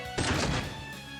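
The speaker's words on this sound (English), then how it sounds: "A big gunshot there" A single heavy gunshot attack in the video game Trails to Azure, a loud booming hit with a short tail that fades into a quiet background.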